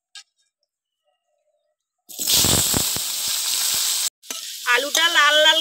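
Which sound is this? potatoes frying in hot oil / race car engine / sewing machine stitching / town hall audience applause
potatoes frying in hot oil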